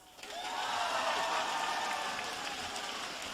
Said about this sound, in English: I want to hear the thunder sticks and hear you cheering if you know some of them.